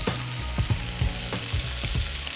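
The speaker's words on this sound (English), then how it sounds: "I'm gonna let this cook for about 10 minutes until the vegetables start to get tender" Vegetables for clam chowder sizzle and fry steadily in a pot, a dense continuous crackle close by, broken by repeated soft knocks of a spoon stirring against the pot.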